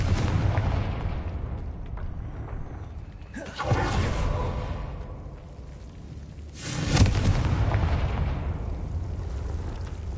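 The Confringo fire-blast spell in Hogwarts Legacy erupts twice in heavy booming explosions, each with a sharp crack that trails into a long rumbling decay over steady low game ambience.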